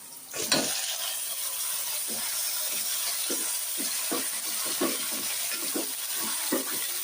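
Chicken pieces sizzling with fried onions in a hot pan for a simple chicken curry, a steady frying hiss broken by regular scraping stirs of a spoon, close and fairly quiet.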